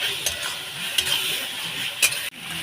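A masala of tomato and yogurt frying in a pan for a village-style desi chicken curry, with a steady sizzle and several short scraping stirs close by.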